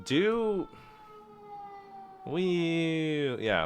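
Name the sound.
siren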